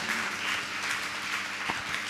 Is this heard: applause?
yes